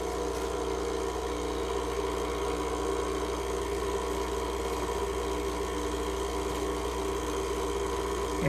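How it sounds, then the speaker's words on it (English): The pump of a Lelit Anna espresso machine with PID runs continuously to purge air from the system, a steady close droning hum that holds unchanged throughout with no speech. "this pump started immediately. I'll run it like this to remove any air in the system"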